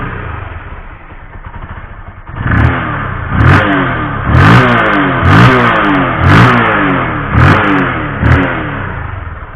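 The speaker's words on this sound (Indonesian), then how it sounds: "kita tes starter. Langsung nyala teman-teman. Motor Pulsar LS135." A Bajaj Pulsar LS135 motorcycle engine kicks into life on the starter and idles roughly, then revs up in several loud, repeated surges, close and unaccompanied.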